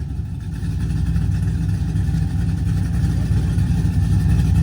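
A Honda car that runs poorly sits idling nearby, a steady low rumble holding even throughout with no revving.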